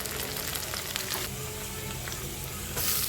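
Chopped onion, green chillies and garlic sizzle in a hot pan with oil for a thotakura tomato curry, a steady crackling fry close by, briefly louder near the end.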